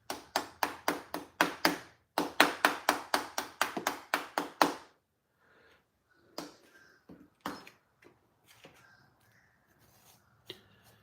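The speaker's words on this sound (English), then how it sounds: "hit it with a spoon, it kind of knocks it all into place," Sharp, rapid metal spoon taps against model railroad track to settle loose ballast onto the ties, about twenty quick close knocks in two bursts, followed by fainter scattered clicks and light handling sounds.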